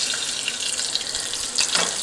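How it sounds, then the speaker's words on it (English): Tilapia fish sizzles steadily in a hot frying pan, a close, even hiss of oil with faint crackles and no talk. "Sizzling in there."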